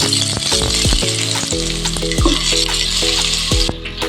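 Onion and tomato dropped into hot oil for a chicken liver curry sizzle loudly and steadily up close, with metal spoon scrapes and rattles against the pan, no talking.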